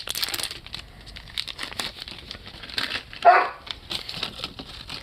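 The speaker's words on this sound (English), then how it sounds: "Are you really barking?" A dog barks indoors in a short, sharp burst amid crinkling and rustling handling noises, fairly close, with no one talking.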